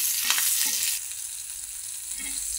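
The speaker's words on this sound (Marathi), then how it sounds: "आता हे हिरव्या मिरच्या आपण अशा तोडून टाकून घ्यायच्या, ह्या पण अशा सारख्या हलवायच्या" Green chillies sizzle in hot oil as they are stirred in a pan, with a couple of scraping stirs early on over a steady, soft frying hiss.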